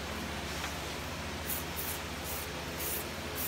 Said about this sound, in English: I'm going to go ahead and test out the spray pattern on here.